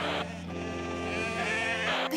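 A cartoon sheep on a farm lets out a long, wavering bleat, loud and close, followed by a short second call.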